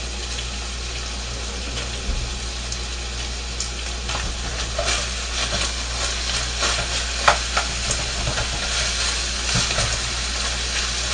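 Hamburger meat with onion and garlic fries in a pan, giving a continuous close sizzle under a constant steady hiss, with scattered spatula scrapes and stirring clicks throughout and no talking.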